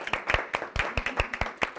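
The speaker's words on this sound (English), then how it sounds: "give yourselves a nice round of applause because you just did it" A small group claps together in a workshop, sharp individual claps close by in a quick, uneven rhythm of roughly a dozen hits.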